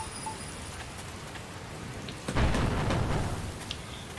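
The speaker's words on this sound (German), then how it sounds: "Warum regnet es die ganze Zeit?" Steady rain falls in the Dragon Quest Builders 2 game world, a constant hiss that swells into a heavier, rumbling downpour partway through, with no voices over it.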